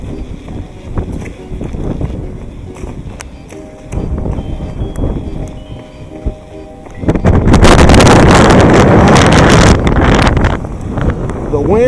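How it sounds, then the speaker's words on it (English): Strong wind gusting outdoors around an abandoned building in Galveston, Texas, ahead of a possible tornado, roaring as broadband buffeting on the microphone, swelling sharply to a loud sustained blast halfway through, with someone talking over the earlier part. "The wind just picked up like crazy."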